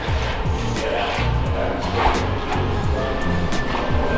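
Dogs bark and yip repeatedly over a busy, noisy background, the short sharp barks recurring through the whole stretch.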